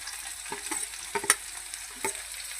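Onion sautés in oil in a kadai, a soft constant sizzle with a few light stirring clicks and scrapes, close but quiet, no voices.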